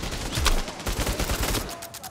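Rapid gunfire in the Bravo Team shooter, a dense stream of close, loud shots crackling continuously for about two seconds.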